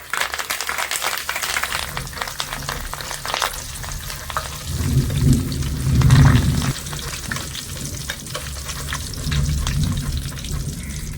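Curry leaves dropped into hot oil with already-fried dry red chillies and peanuts while making a sago and flattened rice snack, giving a steady close sizzle that swells into a louder crackling burst midway, then settles back.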